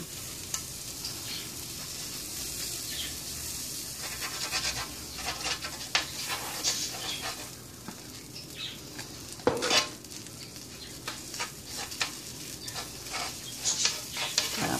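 Butter sizzling and frying in a pan while preparing banana pancakes, a steady close crackle with scattered utensil scrapes and stirring clinks, no talking.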